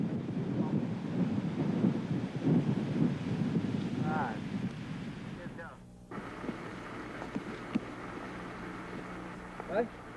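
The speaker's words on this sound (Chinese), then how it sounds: "震耳的风声使得寒冬更显萧瑟" Strong, cold winter wind roars through a Taiwanese forest of thick-trunked cryptomeria cedars, a loud, continuous rushing with gusty swells and buffeting on the microphone.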